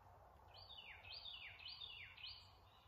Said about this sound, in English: A bird chirping.